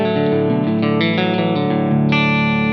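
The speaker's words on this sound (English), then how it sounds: "so the SP compressor sounds like this." Slide guitar runs through an Xotic SP compressor pedal, playing loud, sustained gliding notes with an evened-out, effected tone that shifts pitch across a short phrase, with no speech.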